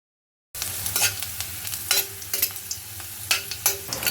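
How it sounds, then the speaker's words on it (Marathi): Garlic pieces frying in hot oil in a kadai, a steady close sizzle broken by stirring scrapes and small bursts of crackling, starting after a brief silence. "तेल तापत आलेलं आहे त्यात आपण लसूण पाकळ्यांचे तुकडे टाकणार आहोत"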